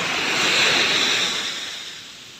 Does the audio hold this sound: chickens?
no